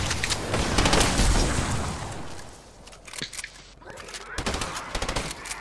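Rapid gunfire in the video game Fortnite's horde assault mode: dense bursts of automatic shots and booms, loud at first, then thinning into separated volleys with brief gaps and renewed bursts near the end.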